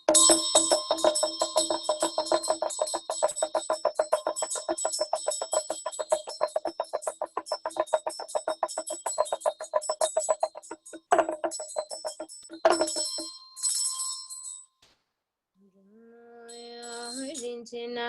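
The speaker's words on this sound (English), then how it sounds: "Do with Damaru and bell play" Damaru hand drum rattles in a rapid, steady rhythm together with a ringing ritual bell during a Nolsang ritual practice session, loud and close, before the playing stops and a voice begins chanting near the end.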